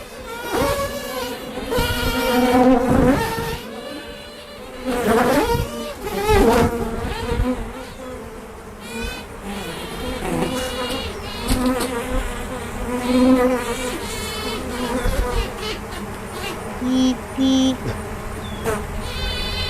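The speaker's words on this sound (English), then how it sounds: "these bees are worker bees in a swarm that's taken off, their queen is still left behind, and they're piping her" A swarm of worker bees left behind by their queen fills the air with dense, continuous buzzing, with repeated rising piping tones and pulsing wingbeat bursts, loud and close throughout.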